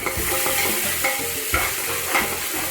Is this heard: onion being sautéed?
yes